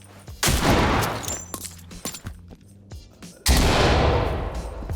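A flashbang grenade in the tactical shooter Ready or Not detonates with a sharp, loud burst, followed by scattered clanks and shots, then a second long roaring blast near the end, no talking.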